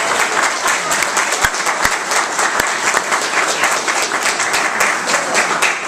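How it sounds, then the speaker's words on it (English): Audience applause at a district supervisor candidates' debate held by a neighborhood Democratic club, dense steady clapping from a crowd with a few sharp close claps standing out, lasting throughout. "I know people like to applaud"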